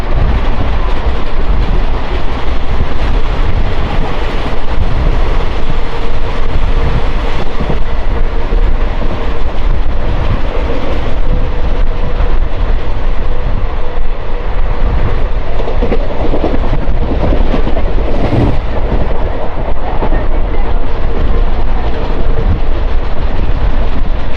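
Palnadu Superfast Express (12747, Guntur to Vikarabad, ICF coaches) skipping Cherlapalli station: steady loud rumble of a train in motion with rhythmic clickety-clack of wheels over rail joints, continuous for the whole stretch with no talk.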